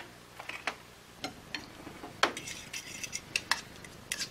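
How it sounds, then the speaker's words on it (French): A fork whips mashed half banana with rapeseed oil in a bowl, making quiet, quick metallic taps and clinks in uneven bursts. The sound is close and faint, with no talking. "Ensuite on va émulsionner ma demi-banane écrasée avec cette huile."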